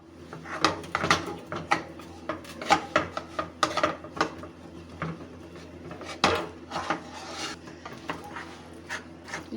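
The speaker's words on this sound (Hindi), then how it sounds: "इसको मैं डालूंगी और अच्छे से इसको मिक्स करना शुरू कर दूंगी" A spoon stirs and scrapes a mixture of flour, maida and dry milk powder in a pan for sohan halwa, with repeated close scraping and knocking against the metal in an uneven rhythm.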